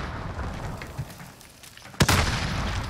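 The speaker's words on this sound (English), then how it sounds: "He's fucking doing the rockets." In Call of Duty Warzone Rebirth, a rocket explosion booms sharply after a quieter stretch of gunfire and rumble, then a loud rush of blast noise carries on.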